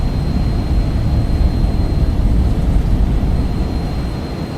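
Twin jet engines of a Phenom 300 in X-Plane 12 roar steadily at takeoff power, a dense, constant low rumble with a faint high whine and no talk.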